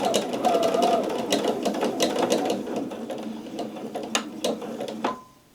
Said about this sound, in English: It's going to keep sewing like that on the continuous mode.